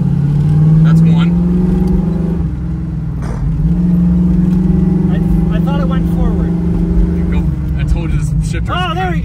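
A 1971 Ford Mustang Mach 1 drives through a canyon, its engine droning loud and close inside the cabin, pitch rising and dipping through shifts in second gear, while people talk over it.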